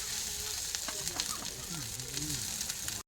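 Mustard seeds, curry leaves and a chili sizzle in hot refined oil, making a loud, continuous crackling hiss with sharp pops close by, while a voice talks over it in the background.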